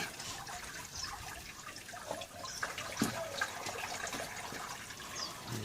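Water running through gold prospecting equipment during a highbanking and dredging session in Arizona, a steady broadband rush and trickle with occasional splashes and clunks, continuing throughout without clearly stopping.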